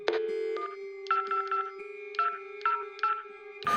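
Telephone keypad tones ring out over a steady dial tone: a series of clean, evenly spaced beeps in small bursts, close and clear with no voices.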